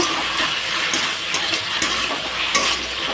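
Tomato with salt sautés in a hot pan, a loud, close, continuous sizzle broken by a few light clinks of a utensil being stirred against the pan.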